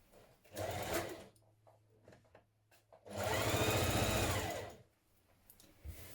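A sewing machine stitches the central front seam of a tunic with a 1 cm seam allowance: a short run of stitching, a pause, then a longer steady burst, close and clear.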